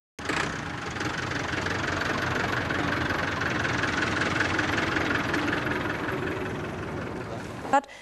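A farm tractor's engine runs steadily at a near, constant drone for several seconds, with a short knock or thump just before it ends.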